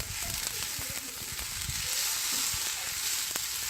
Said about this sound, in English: And we're gonna sweat the onions until they go translucent.